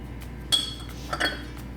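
Cinnamon, sugar, salt and vanilla extract being stirred together in a bowl for apple crumble muffins, a few quiet utensil clinks against the dish.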